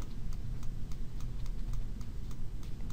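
A computer mouse clicks in a quick, steady series of light ticks over a constant low background hum, close up and unbroken.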